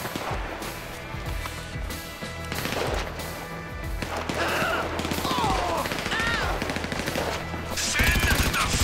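Heavy gunfire in the video game Grand Theft Auto V, sustained automatic bursts and rapid shots from several weapons, loud and close, continuing throughout with crackling impacts and no talk.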